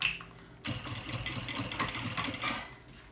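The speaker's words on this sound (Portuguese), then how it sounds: "Aí eu vou rebater aqui a costura bem na beiradinha" Sewing machine topstitching a seam right along the edge of a small insulated bag, a brief pause then a quick, close mechanical whirring run of stitches at moderate volume, with no talking.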